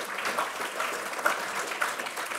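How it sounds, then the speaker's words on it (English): A symposium audience applauds a volunteer map georeferencer, steady moderate clapping from a crowd in a lecture hall, continuous throughout with no voices over it. "So I think that deserves a round of applause if nothing else"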